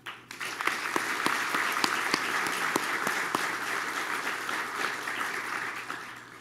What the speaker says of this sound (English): Please join me in recognizing these dedicated instructors with your applause